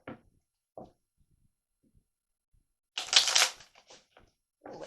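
Oracle cards shuffled and drawn during a healing card reading: a few soft taps and slides, then one brisk, close riffle-like burst of shuffling in the middle and a light card sound near the end, otherwise quiet.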